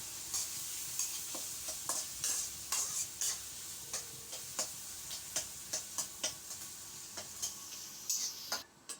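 Onions fry in oil in a home kitchen while a spatula scrapes the pan in a steady ticking rhythm over a soft, fairly quiet sizzle, with no voices.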